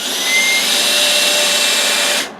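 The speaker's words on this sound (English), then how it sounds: "start out by running the screw backwards, and it'll drill a hole through the wood" A high, steady whine of a power drill driving a screw backwards through wood for a couple of seconds, then cutting off abruptly.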